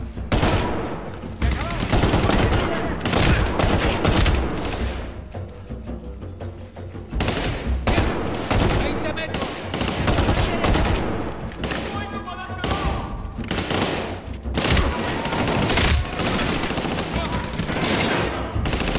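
Dense, loud gunfire from Medal of Honor: Warfighter, with sustained machine-gun bursts and heavy thumping shots nearly continuous across the span, briefly thinning before resuming, close and overpowering.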